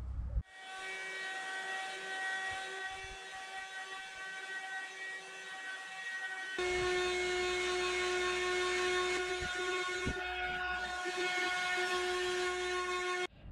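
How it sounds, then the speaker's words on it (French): A small battery-powered vacuum cleaner runs on a curtain inside a converted van, giving a steady high-pitched motor whine that shifts to a louder, lower-loaded tone partway through, close and alone. "un petit coup d'aspirateur pour retirer toutes ces saleté là"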